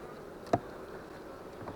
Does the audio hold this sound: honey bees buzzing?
yes